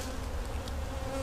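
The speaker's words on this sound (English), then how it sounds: "this appears to be a box full of bees" Bees in a brood box of a hive, a dense steady buzzing heard up close over the whole short stretch.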